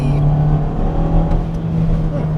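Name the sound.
Hyundai Kona 1.6 liter turbo full throttle acceleration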